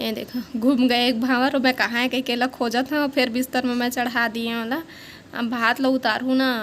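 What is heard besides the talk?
None of the usual background noises is heard.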